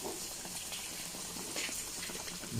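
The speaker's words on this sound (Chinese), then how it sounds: "再开大火煮熟，煮开就行了。" A pot of turbot boils over high heat with a steady, quiet bubbling and hissing simmer that holds even throughout.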